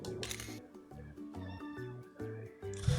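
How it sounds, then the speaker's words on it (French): A house cat meows over and over, a run of short, rising calls close by in a room, above quiet background game music. "Dégage de là, le chat."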